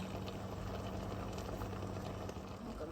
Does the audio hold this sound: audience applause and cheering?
no